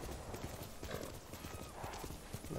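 A horse's hooves clip-clop in a brisk, steady rhythm as it is ridden through rough terrain in the video game Ghost of Tsushima, close and clear with no talk.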